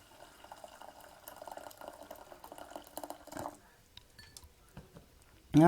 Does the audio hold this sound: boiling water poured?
yes